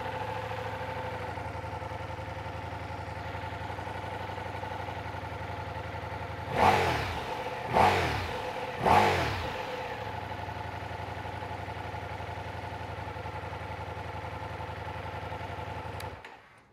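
A 2023 Ducati Diavel V4 motorcycle engine idles steadily throughout, with three sharp throttle blips revving up in quick succession midway before it shuts off.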